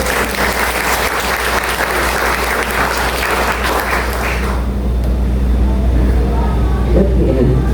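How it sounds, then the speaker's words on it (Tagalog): A congregation in church applauds, with a dense wash of clapping that fades after a few seconds into a low rumbling room hum with faint voices. "Napakahina ng palakpak sa Panginoon talaga."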